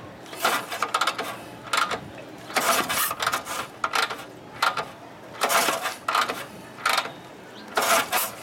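A 1973 74ci Shovelhead chopper engine cranking after an E carburetor rebuild, heard as repeated bursts of starter churning and mechanical clatter separated by short pauses, close and fairly loud, without catching and running.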